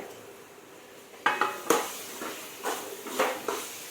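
Matki sprouts being sautéed in a pan with red masala for misal, giving a soft sizzle under several sharp scrapes and clinks of a spoon stirring against the pan.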